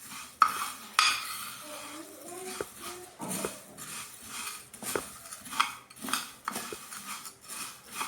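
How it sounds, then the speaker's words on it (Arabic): A spoon stirs food in a metal pot for a chicken dish, giving sharp clinks and scraping strokes at irregular intervals. The sounds are close but fairly quiet, with a light background hiss. "نحرك"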